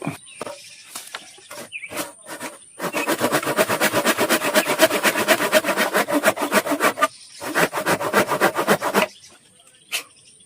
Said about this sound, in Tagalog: putulin ko lang ito dito. Kuha lang akong lagari.